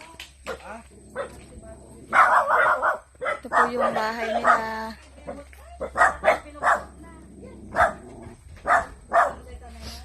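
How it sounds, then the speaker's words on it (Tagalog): Several dogs bark and yip in short bursts around a house, close by, some barks overlapping with people talking and others ringing out between their words. "Ang daming aso."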